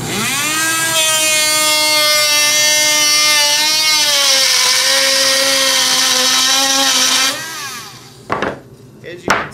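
Dremel Trio rotary tool cutting through material, a loud, steady high-pitched whine for about seven seconds with the pitch sagging slightly under load, then stopping, followed by a few brief knocks.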